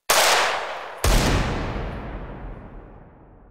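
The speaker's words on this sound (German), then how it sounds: "Der Schuss drang gleich zweimal zu mir." Two gunshots ring out in a radio drama, a sharp crack followed about a second later by a second louder blast with a low boom and a long, fading reverberant tail.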